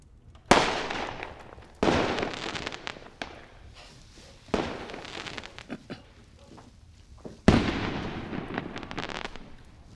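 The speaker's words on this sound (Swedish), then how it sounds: "det är grannpojkarna som skjuter smällare, tror jag" Four sharp firecracker bangs go off outdoors at uneven intervals, each followed by a crackling, echoing tail, with quiet gaps between them.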